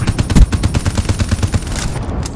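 Rapid automatic gunfire from Call of Duty: Black Ops III multiplayer, a loud, dense burst of overlapping shots that rattles on steadily before thinning out near the end.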